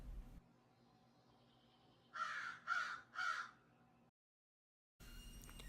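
A crow guarding injured young near a parking lot gives three harsh, evenly spaced caws, clear and fairly close over a faint background hum, followed by a short silence and then louder noise.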